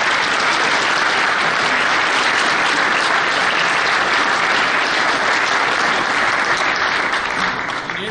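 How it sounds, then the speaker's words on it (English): A crowd at a civic event honoring a retiring city manager breaks into sustained, dense applause that stays steady and loud throughout, with no clear voices rising above the clapping. "I think that deserves a round of applause."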